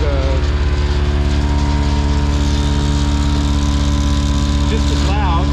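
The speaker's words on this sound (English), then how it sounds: "I'm going to turn on the compressor." An ExtremeAire MAGNUM M1161 off-road air compressor runs on a truck with a loud, steady motorized drone and a constant low pulsing hum. The sound stays unbroken throughout and is heard close up.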